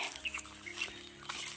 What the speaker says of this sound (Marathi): पक्ष्यांचा किलबिलाट संध्याकाळचा